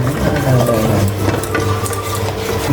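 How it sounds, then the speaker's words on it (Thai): Steady bubbling and simmering of water boiling in a pot on the stove, a continuous churning texture with low hum, close and fairly loud throughout. "น้ำเดือดปุดๆแล้วครับ"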